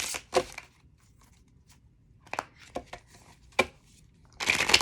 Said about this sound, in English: Let's go ahead and reshuffle again.